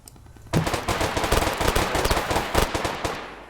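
Gunfire in a military shooter video game, a loud burst of rapid automatic shots that starts abruptly and rattles continuously, close and dense with sharp individual cracks.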